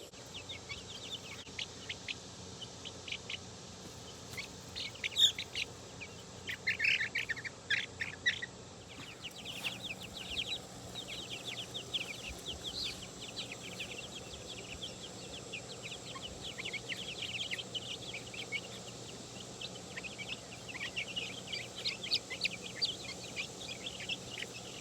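Chickens cluck and squawk softly inside a cheap DIY chicken tractor outdoors, with scattered calls coming and going at moderate distance over a low background hum.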